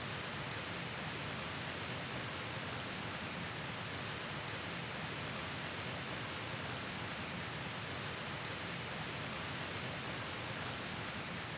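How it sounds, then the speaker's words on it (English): A loud waterfall in the survival video game Scum roars as a steady, dense wash of broadband noise, unchanging and filling the whole stretch with no other sounds breaking through. "Is the waterfall that loud that I can't even hear the sentry?"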